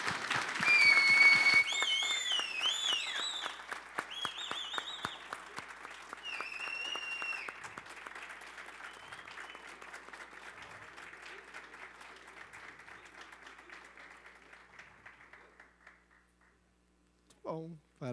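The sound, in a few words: audience applause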